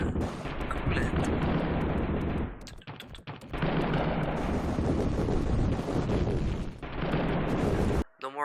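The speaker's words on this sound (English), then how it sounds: "Machine gun." Mech machine gun in a giant-robot video game, dense rapid bursts of loud gunfire with a brief gap before the firing resumes, while a player talks over the action.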